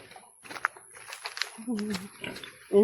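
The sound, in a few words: pig grunting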